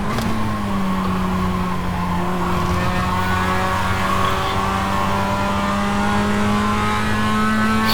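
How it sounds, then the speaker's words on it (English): Mazda MX-5 Global Cup race car in iRacing at Okayama International Circuit, its engine droning steadily throughout with sustained tyre squeal layered over it, loud and close with no gaps. "it screams the tyres a little bit louder than it used to"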